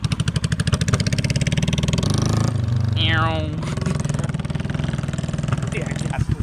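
A motorcycle engine runs steadily close by, its low harmonic drone continuing throughout while a person talks over it and the pitch briefly shifts midway.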